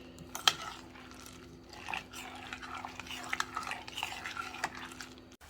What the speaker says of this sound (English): Stir it up to make sure that salt is dissolved.